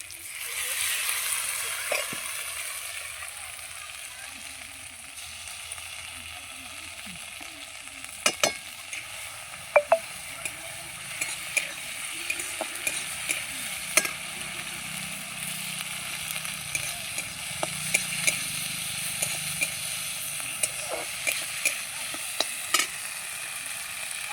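Ginger, cumin and melon seed paste frying with browned onions in hot oil, a steady close sizzle with scattered spoon clicks and stirring scrapes, no voices.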